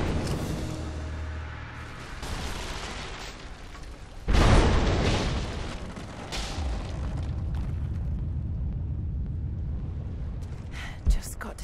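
Greek fire bursts in Rise of the Tomb Raider, a sudden heavy boom a few seconds in that rolls into a long rumbling decay, with a sharper pop near the end and faint speech nearby.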